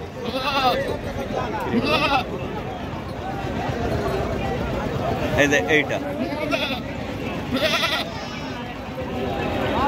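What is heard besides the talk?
goats bleating at Baneshwar goat market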